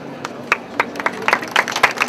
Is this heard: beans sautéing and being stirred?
no